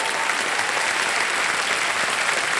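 A studio audience on a Hindi television quiz show bursts into steady, dense applause, a continuous wash of many hands clapping loudly throughout with no voices on top.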